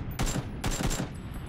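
Bursts of automatic gunfire from a PlayerUnknown's Battlegrounds match crackle in two quick volleys, moderately loud, with a nearby firefight rattling on in the background and no voices.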